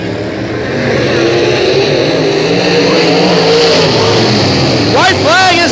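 Race cars roar around Hattiesburg Speedway, engines loud and sustained as they sweep past, the pitch rising and falling near the end, with an announcer talking throughout.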